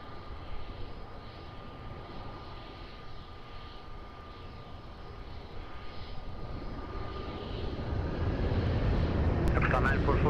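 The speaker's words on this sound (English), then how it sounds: "runway 20 clear for takeoff" A jet airliner takes off from runway 20 at Lisbon Airport, heard from a distance as a broad, steady roar that slowly swells louder toward the end, with a faint tonal whine running through it.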